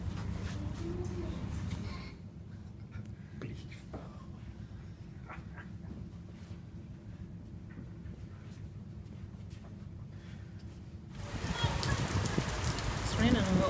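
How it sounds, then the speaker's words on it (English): Light rain patters steadily on a surface outdoors, a soft broadband hiss that swells louder near the end, with faint voices in the background. "It's raining a little bit."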